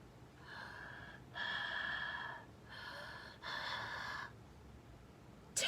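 A voice imitates creepy breathing during a story reading: four slow, raspy breaths alternating in and out, close and fairly quiet against a low background hum.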